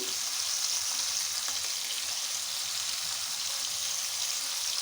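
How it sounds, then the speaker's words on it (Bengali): Hilsa fish kebab paste frying in hot oil in a pan, a dense continuous sizzle that stays even and close throughout. "এই তেলের মধ্যেই আমি পেস্টটাকে হালকা করে বেরেস্তা করবো, হালকা ব্রাউন কালার করে বেরেস্তা করবো"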